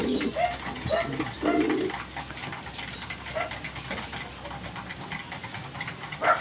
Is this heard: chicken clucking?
no